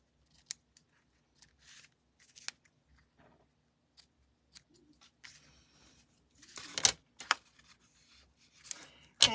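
Scissors snip and trim a ribbon laid over adhesive on a handmade card, several short sharp cuts close up with light rustling of paper between them.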